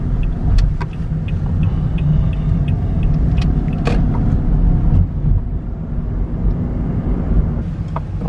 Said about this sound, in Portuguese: Deixa o motor girar um pouquinho.